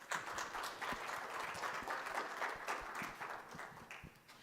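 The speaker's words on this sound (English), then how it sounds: "Please give a round of applause." An audience at a technical conference talk applauds with sustained, dense clapping that holds steady for several seconds and fades slightly at the end. The clapping is moderately distant and there is no speech over it.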